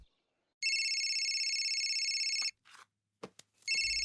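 A telephone rings with steady, loud electronic trills for about two seconds, stops briefly amid a few short clicks and handling noises, then starts ringing again at the end.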